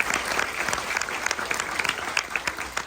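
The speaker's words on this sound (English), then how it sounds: "So a big round of applause for all of our World War II vets." An audience at a military appreciation day at sea applauds World War II veterans with steady, dense clapping throughout.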